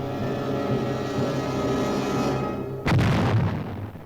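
Artillery fire in a wartime patrol scene: a steady rumbling bed of distant fire, then a loud deep boom bursts in near the end and rolls on, heavy and close.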